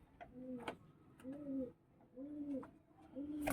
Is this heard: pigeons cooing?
yes